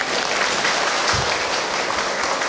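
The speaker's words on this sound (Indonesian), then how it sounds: "Tepuk tangan atuh." Loud, dense applause from an audience at an ustadz's religious talk, a steady wall of clapping filling the whole moment with no voices over it.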